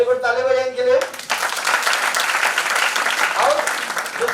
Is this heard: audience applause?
yes